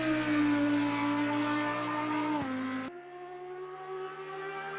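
A high-revving race car engine in a racing video game, a Lamborghini Huracan, drones steadily, shifting pitch abruptly partway through, with no voices.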